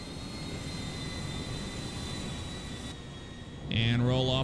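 Airbus A340-300 jet climbing in GTA 5, a steady in-game engine drone with a whine on top, then a brief louder burst of other game sound at the end.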